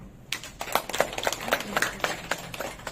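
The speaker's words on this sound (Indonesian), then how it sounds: "Boleh tepuk tangan ya" A lecture audience applauds with a scattered, light patter of hand claps, fairly sparse and moderately distant, building into an irregular rhythm over a few seconds.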